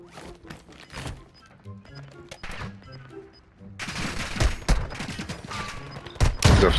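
Gunfire in the Warzone 2.0 video game: scattered shots under brief talk, then a loud, dense burst of rapid automatic fire and impacts in the second half, close and heavy.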